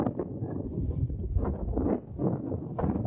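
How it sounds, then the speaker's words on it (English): Strong wind buffets the microphone on a golf course in Costa Teguise, Lanzarote, producing a continuous low, gusty rumble that swells and dips. "Il y a un vent de dingue."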